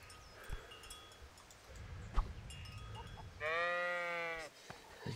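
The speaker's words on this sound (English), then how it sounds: "I knocked out a sheep in one mighty blow." A sheep bleats in Kingdom Come: Deliverance: one loud, wavering bleat of about a second rising out of quiet outdoor ambience, with a few thumps and soft rustling before it.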